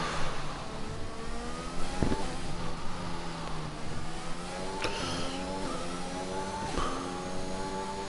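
Race car in a racing video game on a flying lap at Abu Dhabi, its engine revving high and shifting through gears in rising sweeps, steady and moderately loud with no talking.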